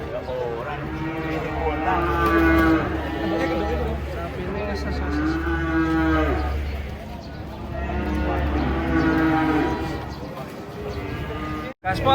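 Cows unloading from a truck give long, loud, close moos repeated several times over a steady rumbling engine-like drone, with voices around them.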